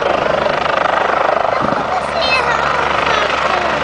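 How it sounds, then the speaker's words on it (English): A medevac helicopter landing nearby, its rotor thumping in a steady, loud pulse at first, then a smoother whine and rush as it settles. "We're going to wait until this helicopter lands, though."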